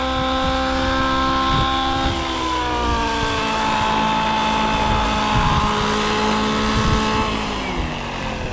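The nitro engine of a SAB Goblin Raw 700 RC helicopter runs rich with a high needle setting, a loud, close, continuous buzzing whine with a gradually shifting pitch and slight bogging wobble, no talking.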